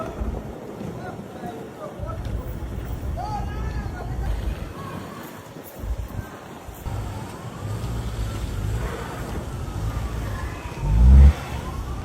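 A car engine revving while stuck in snow during a New York City blizzard: a steady engine drone under wind noise, rising in pitch near the end, with people talking over it.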